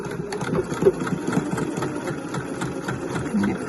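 A sewing machine stitches a seam with a steady mechanical whirring and rapid needle chatter, running continuously at close range with no voices.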